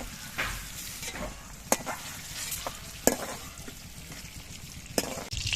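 Capsicum fries lightly in butter in a pan, a steady close sizzle broken by a few sharp clicks and scrapes of stirring, with no talk over it.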